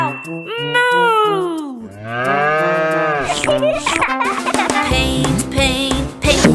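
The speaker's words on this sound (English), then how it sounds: "I'm a cow! Moo!" A cow moos in a long, loud, drawn-out call, followed by a second lowing moo, then musical accompaniment from a children's nursery rhyme song joins in.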